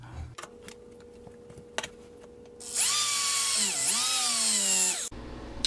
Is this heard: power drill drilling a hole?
yes